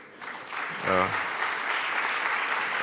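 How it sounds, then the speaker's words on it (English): An audience at a tourism conference session applauds, a steady wash of clapping under which a voice briefly speaks. "let's applaud him and wish him all the best"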